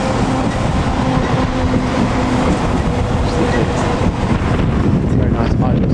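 Northern Turbo Star Class 170 diesel multiple unit, 170-460, idling at Doncaster platform 4, a steady low engine drone with constant broadband rumble and wind noise throughout.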